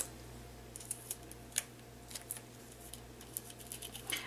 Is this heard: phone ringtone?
no